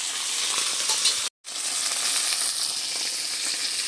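Fish sizzle steadily in hot oil in a wok, a dense continuous frying hiss with a brief gap of silence partway through.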